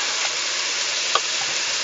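Ground meat for larb browns in a hot pan, giving a steady close sizzle with a faint clink of stirring, with no talk.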